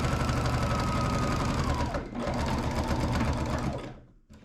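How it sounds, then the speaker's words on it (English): A Baby Lock Jazz II sewing machine runs steadily while quilting straight lines across a quilt, a loud, continuous mechanical whir with a brief dip near the middle before it slows and stops at the end. "And then I'm going to quilt it with just straight lines"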